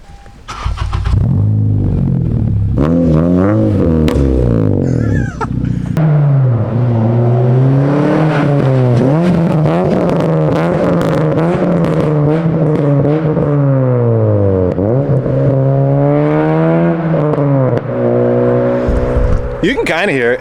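A protuned 9th gen Honda Civic Si engine on a burble tune revs repeatedly, its pitch climbing and falling in close, loud sweeps, with voices talking over it.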